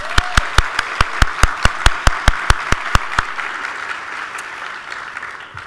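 Conference audience applauding in a steady, rhythmic burst of evenly spaced claps that fade after about three seconds, leaving a soft room murmur.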